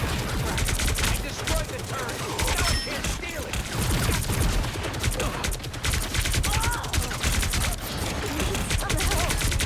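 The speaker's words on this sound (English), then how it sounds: "I'm shooting turret." Rapid gunfire from the Marvel Rivals game aimed at an enemy turret crackles almost continuously, loud and dense, with game effects and voices mixed throughout.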